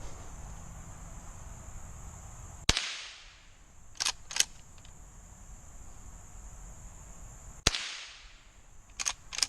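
A Henry .22 classic lever-action rifle fires at bottles stuck in mud outdoors: two sharp, loud cracks several seconds apart, each followed by metallic clicks of the lever cycling, over a steady insect-like hiss.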